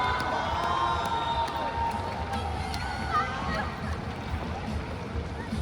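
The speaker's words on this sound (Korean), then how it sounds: "모두 뜨거운 박수 부탁드리겠습니다." An outdoor crowd at the Busan International Film Festival open talk claps and cheers as the director and cast of the film Jeon, Ran take the stage, a busy, continuous din with voices mixed in.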